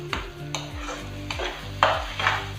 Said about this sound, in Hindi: इस ऑयल में अब हम इसको भूनेंगे, अच्छी तरह से भुनाई करेंगे इसकी।